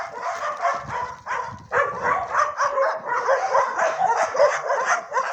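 Dogs bark and yip repeatedly on the day of the first snow, a fairly close, busy string of overlapping barks and yelps with brief pauses and no clear talk.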